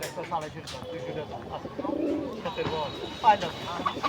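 Pigeons at a village market (haat) in Sherpur coo in low, repeated throaty calls close by, mixed with people talking and general market bustle.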